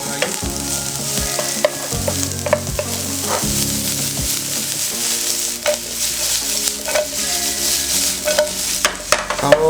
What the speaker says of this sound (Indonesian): Kita tumis sampai dia layu.